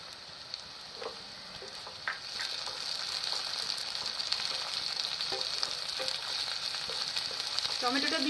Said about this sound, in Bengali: এবার এখানে একটা টমেটো কুচিয়ে নিয়েছি। এবার এই টমেটো কুচানোটা দিয়ে